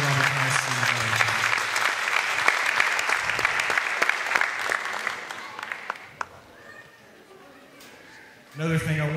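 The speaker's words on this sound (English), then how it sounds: "she deserves a round of applause" A crowd at a wrestling retirement speech applauds steadily for several seconds, dense clapping at moderate distance that tapers off, with a voice speaking at the end.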